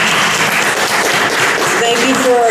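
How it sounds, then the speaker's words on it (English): A church congregation applauding steadily at a Memorial Day service, dense clapping filling the room, loud and sustained from start to finish. "let's give a round of applause to the veterans"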